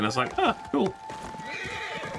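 Horse from Ghost of Tsushima whinnies loudly at the start, a rising and falling neigh repeated in quick bursts over the first second, then game ambience continues with a steady tone while someone speaks.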